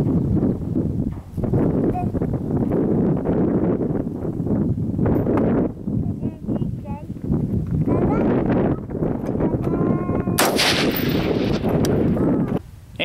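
Rifle shots from a Daniel Defense DDM4V11 fired at clay targets out to long range outdoors, sharp loud reports repeating across the span amid wind noise, with people talking in between.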